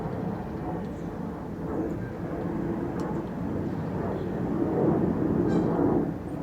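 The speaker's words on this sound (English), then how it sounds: "Airplanes, eh?" An airplane rumbles overhead, a broad, distant roar that swells slightly louder toward the end, with faint speech in the background.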